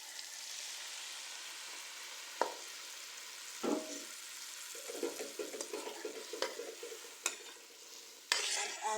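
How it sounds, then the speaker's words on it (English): Coconut milk pours into a pan of frying garlic, onion, carrot and sweet pepper for a curry, giving a soft sizzle with scattered scrapes and stirring knocks, growing busier toward the end; no talking. "To this, I will add some coconut milk."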